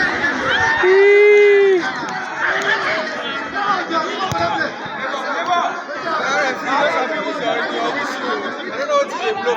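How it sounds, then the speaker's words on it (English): Crowd noise at a football match between Umon FC and BB Tex FC, a dense mix of chatter, shouts and cheering that stays loud and steady throughout. Voices call out from the crowd. "You see the crowd cheering at them."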